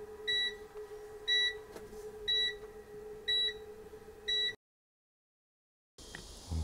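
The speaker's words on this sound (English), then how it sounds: "And what you'll hear is the beep and kind of a countdown." School bus light test button sounding a series of five evenly spaced, sharp electronic beeps as a countdown, then a brief silence and a faint burst of noise at the end.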